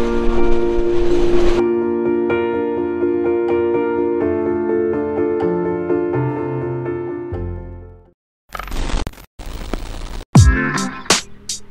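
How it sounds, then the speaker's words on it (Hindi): The Ooty toy train passes on its mountain railway, a loud, sustained horn-like tonal drone over rumbling wheels, then fading into bursts of clattering noise. "आज के दिन की शुरुआत टॉय ट्रेन को देखने के साथ, क्या बात है।"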